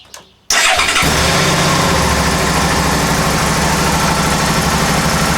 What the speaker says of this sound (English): So we start the engine now.